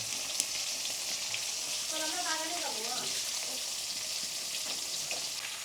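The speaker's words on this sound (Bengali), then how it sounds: "মাছ ভাজা হচ্ছে" Fresh koi fish frying in hot oil at home, a dense steady sizzle filling the whole stretch, with a brief stretch of voice in the middle riding over the crackle.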